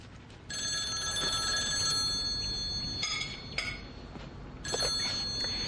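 A telephone rings in three bursts of bright, steady electronic tone with short gaps between them, clear and fairly close over a quiet room.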